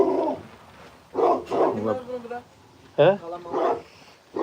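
Two puppies in poor condition yip and whimper in short bursts, close by, interleaved with people talking nearby.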